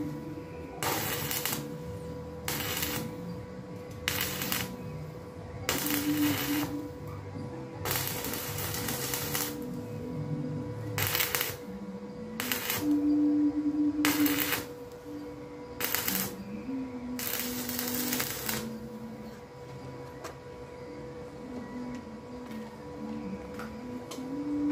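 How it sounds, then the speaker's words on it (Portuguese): Welding on a homemade bench circular saw for cutting wood produces repeated bursts of loud, crackling buzz, each lasting a second or two and separated by short pauses, with no talking. "É solda."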